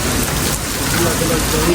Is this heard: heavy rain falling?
yes